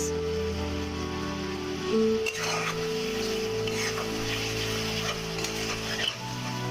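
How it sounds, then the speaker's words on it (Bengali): Whole green chilies and spices stir-fried with a little water, a bubbling sizzle under a tonal hum, with a few scraping stirs and clatters from the spatula. "নেড়ে চেড়ে ভালোভাবে কষিয়ে নিতে হবে।"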